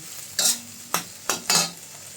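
A spoon scrapes and stirs in a pan four times while cooking a steamed lime fish dish, each stroke a short sizzling swish over a quiet background.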